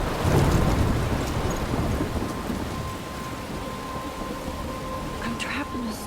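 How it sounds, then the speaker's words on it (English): A thunderstorm in the Life Is Strange video game: steady heavy rain hisses throughout while low thunder rumbles, loudest near the start and fading to a sustained downpour. "I'm trapped in a storm?"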